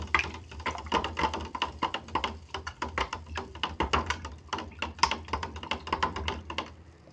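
A spoon stirs sugar to dissolve it in a home kitchen, making a steady run of quick, light clinks and taps against the container that continue throughout, close and moderately loud.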